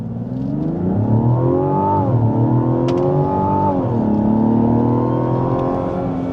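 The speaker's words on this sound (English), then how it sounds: "Very satisfying acceleration. I do enjoy the revs and also the acceleration" A Mazda CX-90 Hybrid 3.3L turbo six-cylinder SUV engine revs up steadily as it accelerates, pitch rising through gear changes, loud and close with a smooth, continuous drone.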